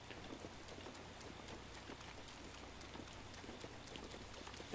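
Rain falls in the open world of the video game Zelda: Breath of the Wild, a faint, even patter that holds steady throughout with no voices over it.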